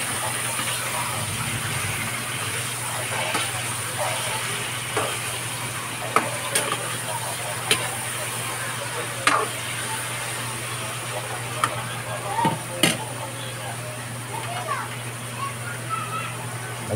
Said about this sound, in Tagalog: Lagay ko na yung mahigit 1 kilong pork.